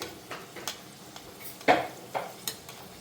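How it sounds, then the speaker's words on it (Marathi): Sanjori sweet pastries deep-fry gently in oil over a low gas flame, a quiet bubbling hiss punctuated by several sharp taps and scrapes of a utensil against the pan, with no voices. "मी बारीक गॅसवर तळते हे बघा बारीकच गॅस आहे"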